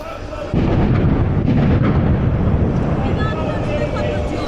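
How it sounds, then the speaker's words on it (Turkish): Loud, heavy booming and rumbling explosions, sustained and thunderous, with a sudden jump in intensity near the start; a voice is faintly present. "Burada bir patlamalar oluyor. Çok ciddi patlamalar oluyor."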